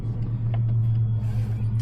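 An old project car's engine running after start-up, a loud, steady low idle rumble filling the short stretch.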